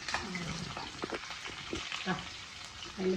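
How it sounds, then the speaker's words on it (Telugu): Garlic frying in hot oil gives a steady, close sizzle with scattered clatter from the pan, and a voice briefly rises over it. "ఎల్లిగడ్డలు వేస్తున్నాం."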